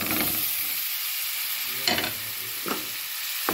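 A spoon stirs boiled rice-flour balls into a spiced mixture in a sizzling pan; a steady hiss of frying runs throughout, broken by a few soft scraping strokes, close up and without speech.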